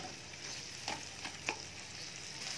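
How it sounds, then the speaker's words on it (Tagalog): Garlic sautéing in a pan while beef kaldereta is cooked, a steady low sizzle with a few faint stirring scrapes and taps. "Dito ako magsosaute ng, syempre, unuuna ko lagi ang onion before mag-garlic"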